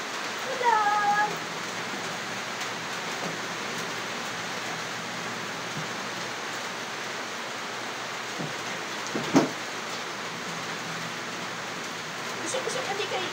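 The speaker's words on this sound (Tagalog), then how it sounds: "Ulan na, ulan na, ulan na." Steady, hissing rainfall pours down throughout, a dense even wash with a couple of brief bumps and faint voices underneath.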